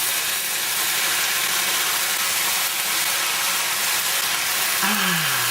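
Onions sizzle steadily in a pan alongside sautéed rabbit, a constant bright hiss at close range with no talking over it.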